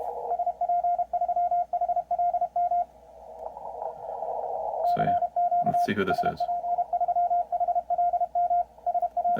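Morse code CW tone heard through a 500 Hz radio receiver filter, a steady keyed beep repeating in short rhythmic bursts over faint band noise, while someone talks over it partway through.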